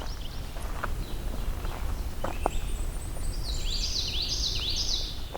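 A common yellowthroat sings loudly in a wetland with lily pads, its rolling phrases repeated three or four times near the end over a steady background hiss, with a few faint chips beforehand.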